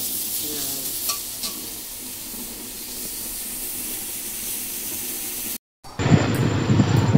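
Food is stirred in a frying pan over heat, a continuous sizzle with occasional scraping clicks, then a brief cut to silence and a louder burst of hissing and bubbling.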